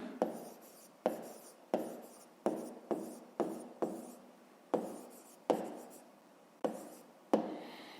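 Pen or pencil writing out a fifth-grade math exercise by hand, a series of short scratchy strokes with sharp onsets, roughly a dozen in uneven rhythm, close and quiet with no talking.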